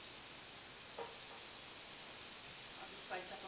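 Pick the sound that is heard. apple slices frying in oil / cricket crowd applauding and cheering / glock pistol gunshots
apple slices frying in oil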